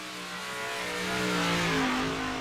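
A dirt track race car engine at a Pro Sidewinder series event at Volusia, a steady loud drone that rises in pitch as the car accelerates past on the track.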